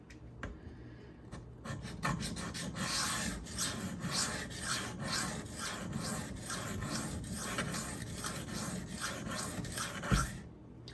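A knife blade scrapes steadily back and forth on a soapy, water-wetted sharpening stone, grinding the bevel in a rapid, rhythmic rasp heard close up with no talking.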